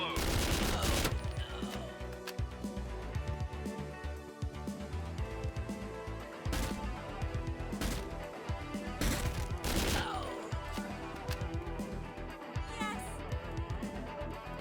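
Bursts of gunfire against enemies in the side-scrolling shooter Door Kickers: Action Squad, sharp repeated shots in clusters over game music, with someone speaking between the volleys.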